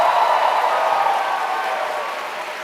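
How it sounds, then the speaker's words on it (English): Applause from the audience at a student-association opening ceremony in Ancona, a dense, steady clapping from a large crowd that fades slightly over under three seconds, with no talk. "Can we give them a big round of applause?"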